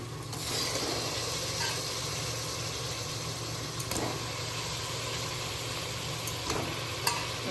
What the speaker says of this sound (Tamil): இப்போ வந்து சிக்கனை வந்து கழுவி வச்சுருக்க சிக்கனை வந்து சேர்த்துக்கிறேன்.